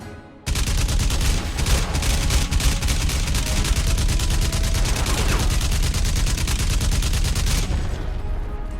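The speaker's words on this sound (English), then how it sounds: "shooting that machine gun literally caused the roof of this bunker to collapse" Sustained machine-gun fire in the shooter Crysis Remastered, a rapid, continuous stream of loud shots lasting about seven seconds before cutting off.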